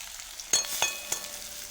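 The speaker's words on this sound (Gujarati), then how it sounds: "ડુંગળી મરચો શેકાઈ ગયું" Onion, green chili and ginger fry in a pan, a soft sizzle punctuated by a few sharp crackles and spatters, close and fairly quiet with no voices.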